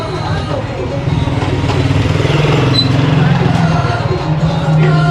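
Motorcycles in the narrow streets of the Marrakech medina rumble loudly and close, engines buzzing and swelling as they pass through, with crowd babble and voices around.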